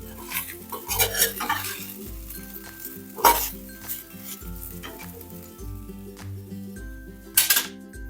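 Cooked rice is turned in a sizzling tempering pan for curd rice. A spoon scrapes and clinks against the metal in repeated strokes while hot oil crackles steadily, close up and with no talking.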